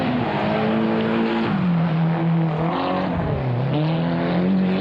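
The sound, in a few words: Mitsubishi rally car sliding on shale oval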